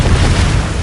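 Hogwarts Legacy's Confringo blasting spell goes off as a brief, loud, deep explosive rumble, heavy in the low end and sustained without a break.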